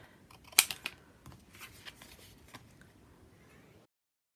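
Scissors snip through paper to cut out a scrapbook window. The snips are faint, close and uneven: one sharp cut early, then softer scattered cuts before silence.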